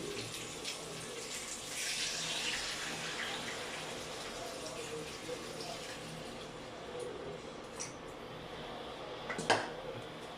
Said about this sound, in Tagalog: Maglalagay lang ako ng tubig.